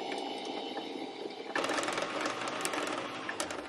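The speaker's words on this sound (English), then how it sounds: "And then we continue to wind our bobbin." A sewing machine winds a bobbin, a close, fast mechanical whir that starts softer and steps up abruptly into a busier, louder rattling buzz partway through, running continuously without talk.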